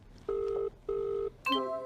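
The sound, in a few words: telephone ringing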